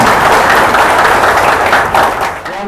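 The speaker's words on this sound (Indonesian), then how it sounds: "Tepuk tangan untuk kita semua Bapak ya." A large seated audience at an Indonesian blockchain class event claps loudly in a dense, sustained burst of applause that fades slightly at the end.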